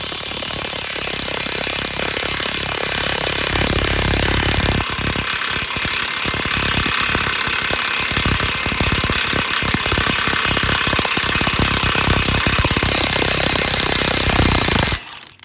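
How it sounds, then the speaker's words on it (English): An impact wrench with a 36 mm socket hammers hard and loud at the front axle nut of a Ford F-150, rattling in a rapid continuous burst for about fifteen seconds before cutting off. "Grab a 36 millimeter axle nut socket. Put it on there. Put it on impact mode."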